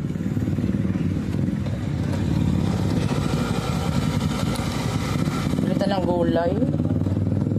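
A motorcycle engine hums steadily while riding along a road, with people talking over it most of the way.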